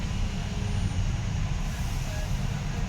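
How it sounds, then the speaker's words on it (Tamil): A steady low rumble of idling and crawling trucks and other vehicles comes from a jammed Agra–Delhi highway near Mathura, Uttar Pradesh, during rain, with a continuous engine drone at close range. "நேற்று நைட்டு 12 மணிலேருந்து ஃபுல் டிராஃபிக்."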